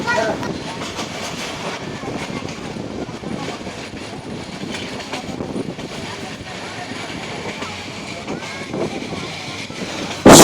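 Passenger train on the Dhaka to Dewanganj route in Bangladesh, heard from onboard as a steady rumble with rhythmic clickety-clack of wheels on rails and some wind noise, ending with a sudden loud burst.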